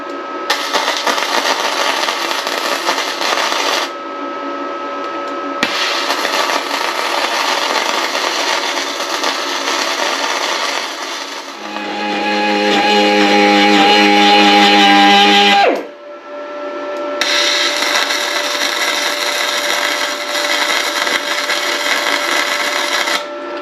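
Power tool cutting metal during a cargo trailer makeover: a loud, harsh grinding whine in long sustained bursts separated by short pauses, with one stretch of deeper, strained tonal cutting, close and with no talking.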